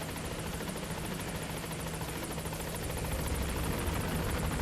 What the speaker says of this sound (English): so you could choose to fly by helicopter if you prefer